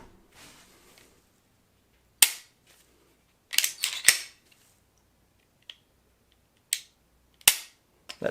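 A Smith and Wesson CSX aluminum-frame micro 9mm pistol fires several sharp, clipped shots at irregular intervals. Between the cracks the range goes nearly silent, and two reports land in a quick pair.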